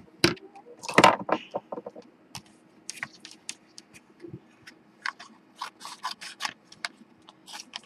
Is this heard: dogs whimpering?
no